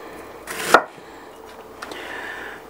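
A knife chops through an onion on a cutting board, with one loud, sharp cut near the start and a couple of fainter knocks after it, close and with no talk.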